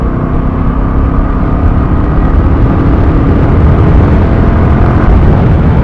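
A Royal Enfield Classic 350 motorcycle cruising in third gear at about 80 km/h, a loud, steady engine drone blended with heavy roaring wind rush throughout.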